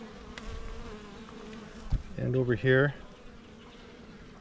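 Honey bees buzz steadily around a hive frame holding worker and drone cells, a continuous close drone running throughout beneath a person's brief speech.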